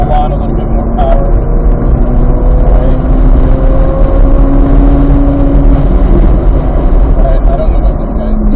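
A Corvette Z06 engine drones loud and steady in the cabin on the Thunderhill track, a continuous roar with a slowly rising pitch as power builds, with road rumble underneath.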